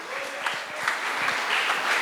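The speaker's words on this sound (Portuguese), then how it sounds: "E as palmas louvam o Senhor" Church congregation applauding to praise God, a steady dense patter of many hands clapping for about two seconds with no voices standing out.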